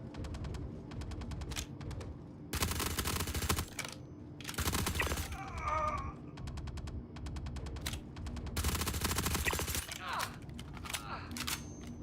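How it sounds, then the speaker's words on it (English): Small arms gunfire around an outpost in the space game Star Citizen: several rapid automatic bursts mixed with scattered single shots, moderately loud and steady, with no voices. "I can hear gunfire out here for some reason. And it sounds like small arms."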